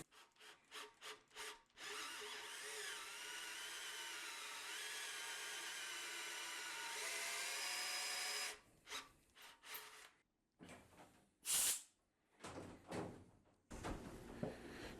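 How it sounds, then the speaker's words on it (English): A cordless drill spins a piloted counterbore into a metal part, cutting a shallow counterbore for an oil fitting: short bursts of whirring and rubbing, then a long steady grinding run, followed by brief stop-start bursts. "I'm taking a counterbore, a piloted counterbore that fits in here in my cordless drill"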